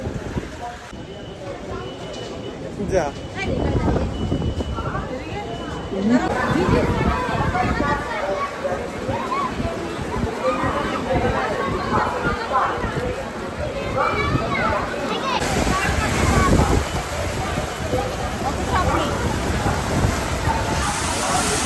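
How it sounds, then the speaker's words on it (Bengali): Heavy rain and storm wind sweep over a railway station as a train arrives, a dense continuous roar with a crowd's babble and voices talking under it. "মারাত্মক পরিমাণে বৃষ্টি হচ্ছে"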